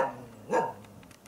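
A dog in its kennel on a village street at sunset gives one short bark, near and moderately loud, standing out from quiet outdoor background.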